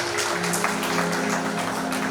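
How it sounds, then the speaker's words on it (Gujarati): Audience clapping at a Bhagavat Katha religious discourse in Gujarat, a steady dense wash of applause lasting a couple of seconds without pause, with a faint sustained tone and murmur underneath. "જોરદાર તાળીઓથી વધાવશું આપણે."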